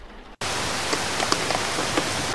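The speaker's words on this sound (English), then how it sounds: "before the rain gets heavier" Steady rain hisses loudly after a brief quieter moment at the start, with occasional sharper drops pattering close by.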